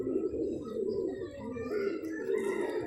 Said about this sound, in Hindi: ये मेरा भाई सादा सा कबूतर है